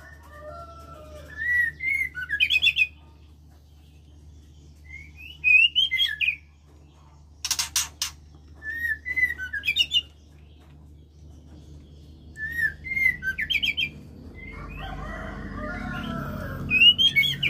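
White-rumped shamas give short bursts of whistled chirps and tweets separated by pauses in a quiet setting, with a brief sharp noise midway and a soft rustle near the end.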